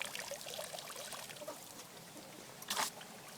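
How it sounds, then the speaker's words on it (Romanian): Washing water trickles out through holes in the wooden floor of an inflatable boat, a faint steady dribble ending in a brief louder gush of runoff. "Atunci când spălăm fundul de lemn, intră apă în orificii, pe partea cealaltă apa iese"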